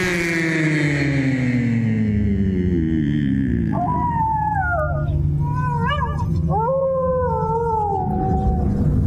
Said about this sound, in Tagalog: Nakakakilabot naman ang alulong ng asong yun sa malayo.